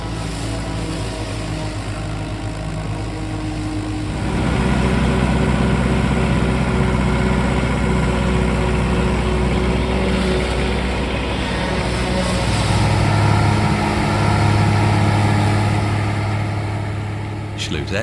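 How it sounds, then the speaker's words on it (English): A 1960s 56 horsepower Schlüter S650 tractor drones steadily while working with a single-row 1973 Mengele Mais Blitz 3 forage harvester, its engine rising to a louder chopping roar midway and holding heavy and close. "1960s 56 horsepower Schlüter S650 was one of the older tractors present. It's working with a single-row Mengele Mais Blitz 3 forage harvester"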